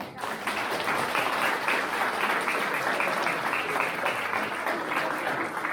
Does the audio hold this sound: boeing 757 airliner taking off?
no